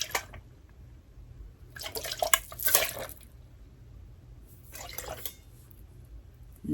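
Water sloshing and dripping inside a flipped Meoky cup, heard as two short bursts of splashing liquid with quiet gaps between, close and fairly soft.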